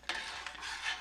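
A spoon stirring coffee jelly in a container, a brief close scraping swirl with a few soft clinks, quiet and alone.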